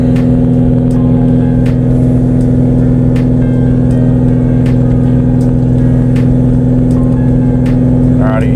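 Car engine, a project no-prep drag build being tuned with a new intercooler at 28 psi boost, holds a loud, steady high drone throughout, pushing through traction control toward redline with little change in pitch.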